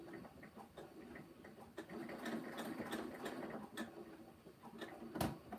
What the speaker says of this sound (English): I am going to do a basting stitch on this, I think.